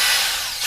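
A small hand drill bores a hole for a valve stem in a homemade dummy auxiliary fuel tank, giving a steady, close whine that holds for under a second.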